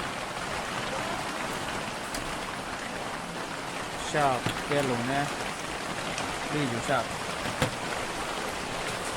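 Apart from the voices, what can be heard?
heavy rain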